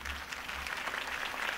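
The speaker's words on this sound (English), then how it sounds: "could have heard that applause" Applause from a crowd at a campaign speech in Batman: The Telltale Series, a steady, even wash of clapping lasting the whole moment with no talk over it.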